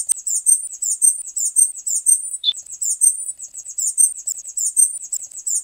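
Recorded bird chirping played back in Audacity, a rapid repeating series of thin, high-pitched chirps in regular bursts against silence, with one brief click partway through.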